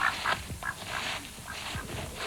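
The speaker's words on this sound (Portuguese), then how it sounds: "ouviu-se um agitar de asas, e então um grande pato pousou diante deles, perto do lago" A duck quacks twice close by near a lake, the calls sharp and nasal, followed by a softer rustle and flutter of wings as it comes in to land.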